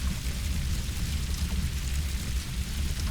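A stream of water fired in Ty the Tasmanian Tiger 2: Bush Rescue, a steady loud rushing splash and spray that carries on without a break, with no talking.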